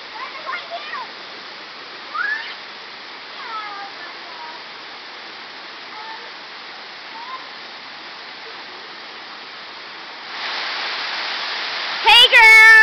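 Waterfalls at Hawks Nest, West Virginia roar in a steady broadband wash, with excited voices and shouts of children scattered over it and a louder splashing surge near the end.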